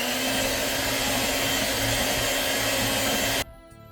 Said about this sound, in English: So we're going to whisk this.